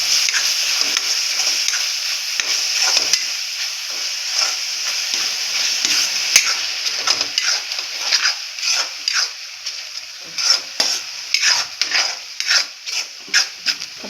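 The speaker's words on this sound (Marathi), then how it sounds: "तर आपली जी टमॅटोची प्युरी आहे ना, 2 टमॅटोची, ती पण टाकून घेणार आहे." Tomato puree from two tomatoes goes into a pan of frying mutton liver masala, giving a loud steady sizzle that settles into bursts of stirring and bubbling close by.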